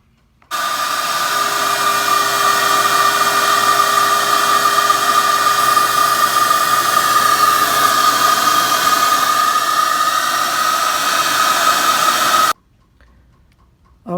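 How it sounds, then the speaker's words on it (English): A wet vac runs steadily for about twelve seconds while vacuuming gunk out of an AC unit, a loud, constant whining roar that starts and stops abruptly, with no talking. "I'm going to run a wet vac"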